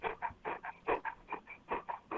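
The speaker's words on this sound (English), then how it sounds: "is that a dog in the background" An English golden retriever panting in quick rhythmic bursts, close and fairly clear, about a dozen short breaths with slight whimpering tone.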